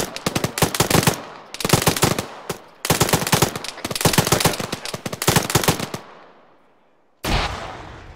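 Gunfire in the military game Arma 3, loud rapid automatic bursts in several long strings with brief gaps, followed by a trailing echo, a pause, and one more sudden burst.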